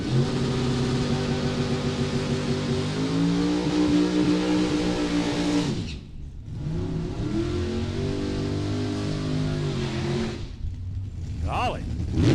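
At a World Super Pro Challenge drag race, a car launches hard out of the water box with a loud, rising engine roar that cuts out briefly and then returns, while an announcer talks over it.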